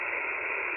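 Steady radio static on the 10-meter amateur band, heard through an ICOM IC-705 transceiver with a homemade dipole antenna: a flat, even hiss filling the whole moment, loud and unbroken, with no voice.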